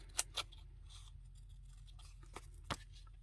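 Scissors snip through a paper journaling card in a few quick, crisp, close cuts spaced out in a quiet room.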